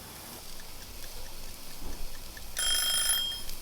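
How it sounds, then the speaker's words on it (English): A cooking timer beeps out near the end while steak is barbecued, a bright electronic tone that starts suddenly over quiet outdoor background noise and lasts about a second. "there's the timer"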